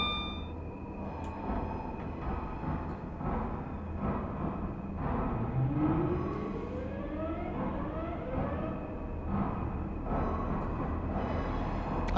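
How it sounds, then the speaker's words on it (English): A Class 323 electric train in Train Simulator 2021 rolls into a station with a steady rumbling drone and a rising electric whine, fairly loud and continuous, with no talk over it. "That's a noisy train coming into the station, isn't it?"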